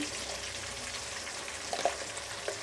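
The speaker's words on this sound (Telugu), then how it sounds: "మసాలా వేసుకొని ఒక 2 నిమిషాలు వేయించుకుంటే చాలు" Brinjals frying with masala in a pan for a stuffed eggplant curry, giving a soft steady sizzle with a few faint stirring clinks near the end.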